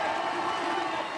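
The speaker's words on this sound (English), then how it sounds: "Just listen to the crowd" Crowd packed close beside a canoe slalom course in Prague, producing a steady, fairly distant wash of cheering and clapping that holds level throughout.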